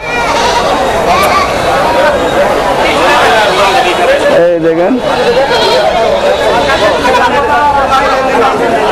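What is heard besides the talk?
goats bleating at a livestock market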